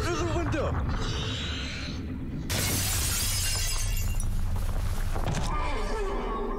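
A window pane shatters from a gunshot in a video game: a loud burst of breaking glass that crashes in midway and rings on for several seconds over a dense game soundscape.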